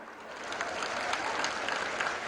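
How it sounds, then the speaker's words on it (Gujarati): An audience applauds at a public address by the Prime Minister at GMDC Ground, producing a dense, steady burst of clapping from a large crowd that swells slightly partway through. "માનનીય પ્રધાનમંત્રી શ્રીનો આવો તાળીઓ સાથે આભાર વ્યક્ત કરીએ."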